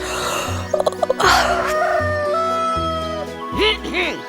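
A cartoon rooster crows in a children's animated story, with a few loud drawn-out calls set against bright musical tones and short percussive hits.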